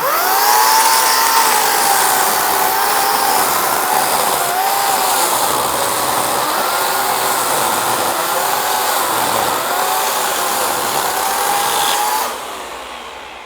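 A chainsaw trims wood ends at a woodworkers' guild meeting, giving a loud, steady, close motor whine whose pitch dips and rises slightly as it bites, then cuts off near the end.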